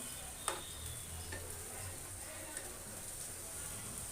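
Sliced Mymensingh eggplant frying in oil in a pan, a soft, faint continuous sizzle with a couple of light clicks from stirring.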